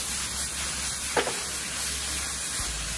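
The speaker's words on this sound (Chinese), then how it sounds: "切好的螺丝椒段也加进来，给它大火翻炒2分钟" Tofu skin and cut screw peppers stir-fried in a wok over high heat give a constant, close hissing sizzle with a brief scrape partway through, and no voices.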